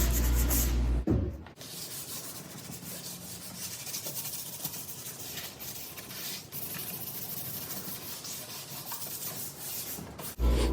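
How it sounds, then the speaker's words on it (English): Sandpaper rubbed by hand over dried wood filler on a DIY fireplace mantel makes a steady, continuous scratchy rasp that runs almost the whole time, close and fairly quiet, with no talking. "once it dries, we will hit it with some sandpaper, and that will smooth everything out"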